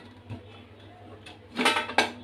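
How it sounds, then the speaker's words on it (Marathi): A soft rattle followed by two sharp metallic clanks as a pressure cooker lid is lifted off, close and brief. "झाकण काढून घेऊया"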